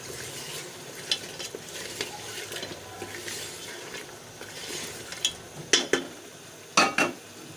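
Steady scraping and sizzling as tomatoes are stirred into aloo gosht in a hot pan, with a few louder metallic clinks of a spoon against the pan near the end.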